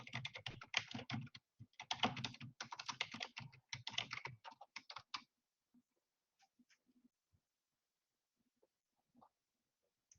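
Rapid typing on a computer keyboard, with clattering bursts of keystrokes for about five seconds, then a few scattered taps and near silence, close and fairly quiet.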